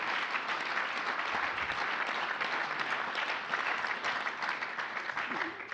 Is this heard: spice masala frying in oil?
no